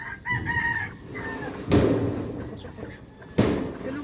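A rooster crows loudly nearby while chickens cluck and rustle around, with a second crow near the end and some background voices.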